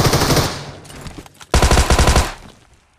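Video game gunfire in two dense automatic bursts, the first fading out and a second loud, rapid burst of shots that tails off near the end.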